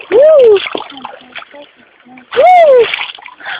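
Feet splash through the water of a creek in two loud, sharp bursts a couple of seconds apart, with people talking and exclaiming over and between the splashes.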